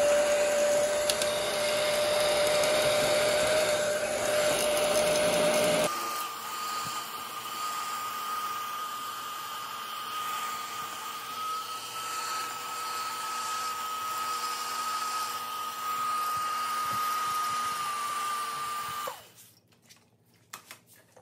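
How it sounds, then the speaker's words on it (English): Heat gun blowing hot air onto Monokote covering along the fuselage bottom edge of an RC plane: a loud steady whine and airflow whose pitch shifts partway through, then cuts off near the end. "Just going to use my heat gun and wrap that edge the best we can."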